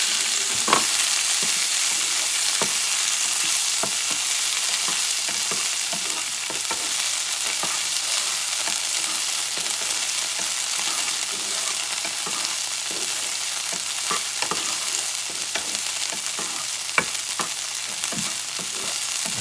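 Potatoes for a wild boar and pork hash fry steadily in a pan over high heat, a continuous close sizzle with occasional sharp pops and crackles and no voices.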